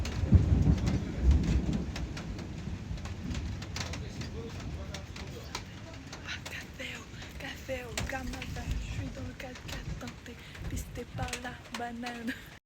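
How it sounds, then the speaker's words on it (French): Heavy rain pours outdoors during a thunderstorm while on vacation, a dense constant patter with a rumble of thunder near the start, and people talk and exclaim over it. "Là littéralement il pleut"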